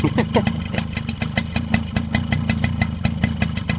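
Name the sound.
Suzuki LT50 quad bike engine running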